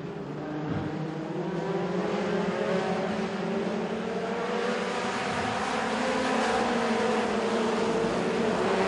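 Front-wheel-drive mini stock race cars roar past at a speedway, a dense, sustained engine drone with rising and falling pitch as the pack runs three wide into a turn, loud and continuous throughout.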